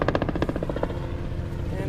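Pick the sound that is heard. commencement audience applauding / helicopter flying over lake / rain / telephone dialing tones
helicopter flying over lake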